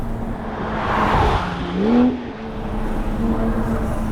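A RUF Rodeo sports car's engine swells and rises in pitch as it accelerates through a corner, a loud close revving drone that peaks and then settles back.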